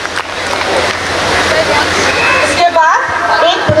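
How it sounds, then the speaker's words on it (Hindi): An audience at an Independence Day award ceremony applauds the recipients: steady, loud, continuous clapping from a large crowd that fades into a voice at the end. "तालियां।"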